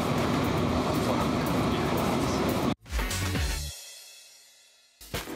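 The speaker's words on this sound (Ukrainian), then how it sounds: "Це дуже сучасне метро" Steady loud rumble of a Medellín, Colombia metro train in motion from inside a carriage, cutting off abruptly, then a quieter hum as the ride continues.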